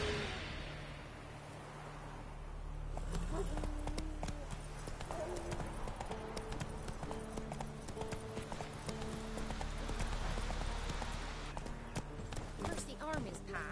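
Roach, a horse in The Witcher 3 video game, clip-clops along at a steady trotting pace, the hooves loud and close throughout, set against game ambience and music with a voice talking over it.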